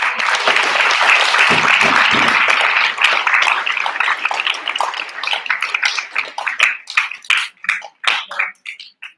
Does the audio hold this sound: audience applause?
yes